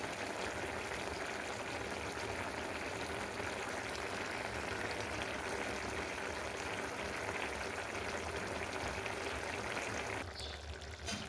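Potatoes and vegetable stalks boil in a pot, making a continuous bubbling, watery rush at a steady level that drops away briefly near the end.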